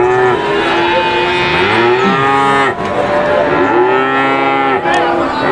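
At a crowded cattle market, calves and cattle bellow loudly, with long overlapping moos rising and falling one after another close by.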